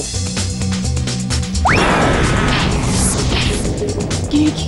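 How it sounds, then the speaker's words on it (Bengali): A cartoon explosion from the Bengali animated series Nut Boltu: a single loud blast preceded by a rising whistle, followed by a sustained roar of rumbling, crackling debris that fills the rest of the moment. "শহর জুড়ে সিরিয়াল ব্লাস্ট হচ্ছে।"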